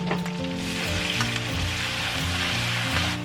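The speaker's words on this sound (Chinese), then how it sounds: "这些酱料的香味一定要炒出来哈" Doubanjiang bean paste and a fermented black-bean chili sauce stir-fry in a hot wok with aromatics, a steady close sizzle running throughout beneath repeated scraping and stirring strokes of the spatula.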